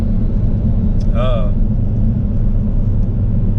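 A Ford Focus ST fitted with a Roush cold air intake driving, a loud, steady low engine and road rumble filling the cabin throughout, with a brief higher tonal whine rising over it.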